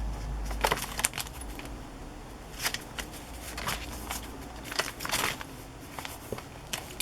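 The small metal key of a journal jangles and clinks in repeated short bursts over several seconds, close and crisp, mixed with light handling and rustling sounds.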